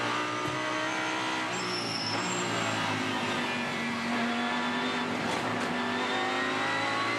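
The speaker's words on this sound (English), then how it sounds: "That's the sound of the curb on the inside of turn 4, that rattling, crunching sound" A GT race car engine roars steadily at close range as the car runs over the inside kerb of turn 4 at Sydney Motorsport Park, with rattling and crunching mixed into the loud drone.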